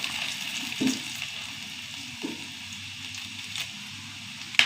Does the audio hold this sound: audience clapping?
no